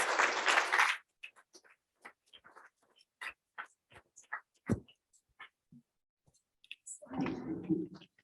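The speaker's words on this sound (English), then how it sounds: "Let's give a round of applause to all of our award winners." An audience at a wellness conference applauding award winners; after a short burst at the start, the clapping thins to sparse scattered claps, then swells again at the end, with a voice briefly heard.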